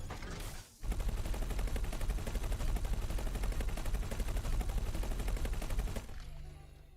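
Weapon fire in the space game X4: a sustained rapid mechanical barrage runs for about five seconds without a break, loud and dense, then cuts off into a quieter mechanical reload tail.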